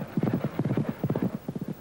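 Racehorses gallop on turf at the 1993 Werribee Cup, hooves drumming in quick, even clusters of beats, close and fairly loud over about two seconds, with no talking.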